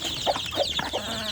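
Free-range village hens cluck in a few short, close calls over about a second, with steady soft background chatter from the flock.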